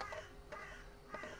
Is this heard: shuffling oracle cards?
no